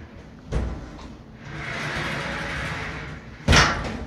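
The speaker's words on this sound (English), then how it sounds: "So this is the door." A bathroom door in a newly built, empty house bumps shut twice, near and alone, with a soft whooshing swing of the door between the two thuds.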